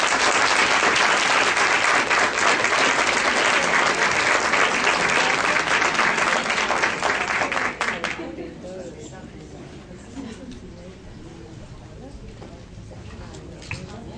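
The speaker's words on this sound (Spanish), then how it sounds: "ahora sí lo tuvo más que merecido el aplauso la doctora" A conference audience at a regional family-law conference applauds a speaker in a loud, sustained burst for about eight seconds, then the clapping quickly fades to a few scattered claps and quiet room noise.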